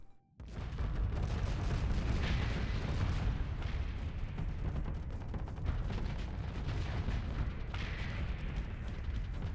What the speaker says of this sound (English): Looks like we got some more missiles going out.